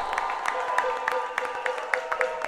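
A crowd applauds at a live salsa club show, with steady clapping and faint cheering over a lingering musical tone, moderately close and even in level.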